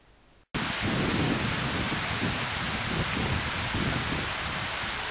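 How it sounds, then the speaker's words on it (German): Heavy, steady rain pouring with a low thunder rumble, starting abruptly after a brief quiet moment and continuing loud throughout. "Regnet."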